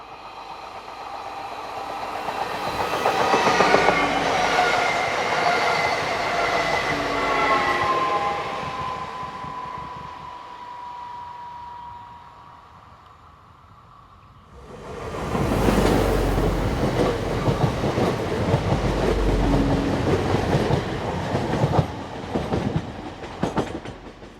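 A bimode AGC train unit in France departing Dijon passes by, a broad rumbling wash of wheels and engine that swells, fades into a quieter gap, then returns loud and close.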